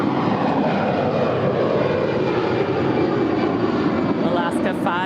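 Alaska Airlines Airbus A320, eleven years old, departing LAX for Seattle: a loud, sustained jet engine roar that holds steady throughout, close and continuous.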